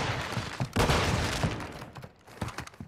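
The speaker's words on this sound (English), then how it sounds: "It's a shotgun." Shotgun fire in Modern Warfare II comes as several heavy, booming blasts in an uneven sequence, loud up close, with a denser cluster early, a quieter gap, then more shots near the end.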